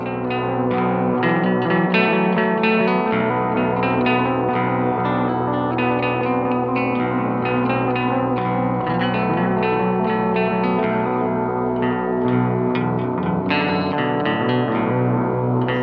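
A heavily processed electric guitar plays continuously through a Fuzzlord Effects Dark Master fuzz pedal, its tone thick and saturated with distortion, with a washy, echoing texture throughout.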